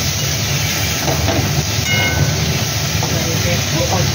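Chopped tomatoes dropped into a hot pan set off a loud, continuous close-up sizzle, a dense steady hiss that holds without a break.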